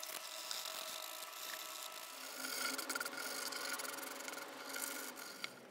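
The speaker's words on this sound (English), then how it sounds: "Sand it with sandpapers." A wooden violin neck being smoothed with sandpaper, a quiet, continuous dry rubbing that swells slightly in strokes, close and faint, without speech.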